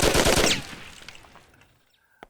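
Burst of rapid gunfire in the Mafia video game, loud at first and then fading into a quiet tail with a few faint clicks at the end.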